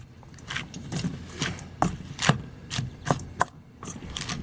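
A utensil knocks and scrapes in a bowl as ingredients for chicken egg foo young are mixed together, an uneven series of sharp taps and clacks, close by.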